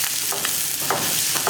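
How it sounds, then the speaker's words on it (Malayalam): Onion sautéing in a hot pan with oil, a loud close sizzle broken by several scraping stirs of a spoon, with no talking. "ഇനി ഉള്ളി ഒന്ന് വഴറ്റിയെടുക്കുക"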